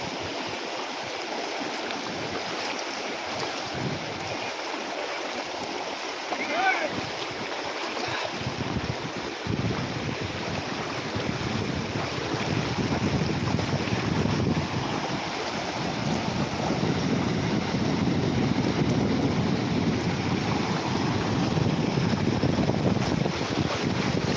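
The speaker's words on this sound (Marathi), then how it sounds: "पहिल्या पावसातील पहिला हा महापूर कासेगावमध्ये आज पाहायला मिळतोय" Floodwater rushes in a steady, broad roar through Kase village in Sangameshwar, Konkan, during the first monsoon flood of 2025. It starts quieter, then swells louder and fuller in the second half, with wind buffeting the microphone throughout.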